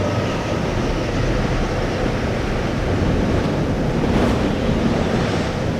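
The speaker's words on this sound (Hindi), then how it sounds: "अचानक तेज हवा चलने लगी।" Steady, heavy rushing wind roars without pause, broadband and loud throughout, with no voices.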